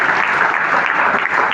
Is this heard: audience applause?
yes